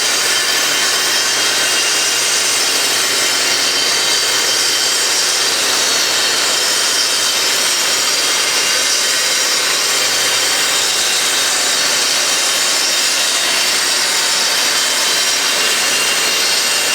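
A power panel saw cuts through a piece of wood with a loud, continuous broadband whine and roar that runs steady and close for the full seventeen seconds, with no speech.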